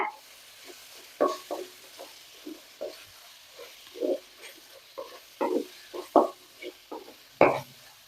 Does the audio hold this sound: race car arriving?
no